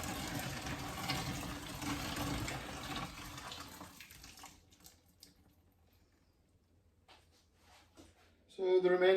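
Freshly boiled water pours from a kettle into a vessel while homemade elderflower and honeysuckle wine is being made, giving a steady close splashing rush for about four seconds that then tapers into quiet drips and brief handling noises.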